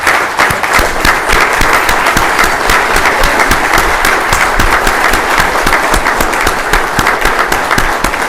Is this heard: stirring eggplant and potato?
no